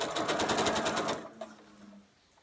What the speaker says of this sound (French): Je tiens avec le doigt et je couds.